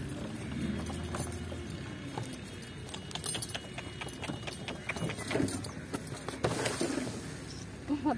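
Donkey cart hooves clip-clopping on a road, a run of sharp irregular knocks with rattling and jangling of the cart, close by over a steady rumble.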